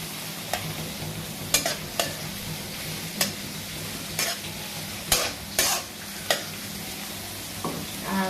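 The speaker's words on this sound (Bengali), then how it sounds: "তো এখানে পেঁয়াজের আর কাঁচামরিচ দিয়ে দিচ্ছি এটা এখন আমি হালকা একটু নরম বা বাদামি হওয়ার পর্যন্ত একটু ভেজে নেবো" Onions and green chillies frying in a pan, a steady background sizzle broken by about ten sharp spatula scrapes and taps at uneven intervals, close and without speech.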